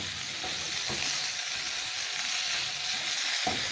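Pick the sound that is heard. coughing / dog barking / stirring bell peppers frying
stirring bell peppers frying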